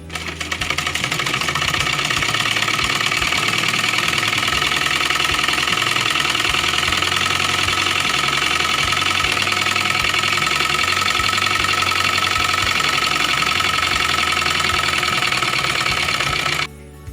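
A sewing machine hums continuously and loudly up close while stitching the waist section of a high-neck blouse, a dense, even mechanical drone lasting the whole stretch before stopping abruptly at the end.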